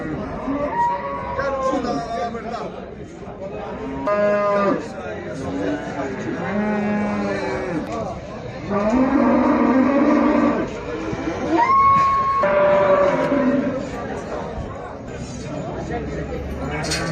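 Cattle moo repeatedly, with several long, loud calls close by at a busy sheep, goat and cattle bazaar in Mashtaga, Azerbaijan, while people talk and chatter around them.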